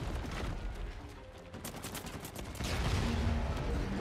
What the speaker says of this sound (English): somebody threw a grenade or something up there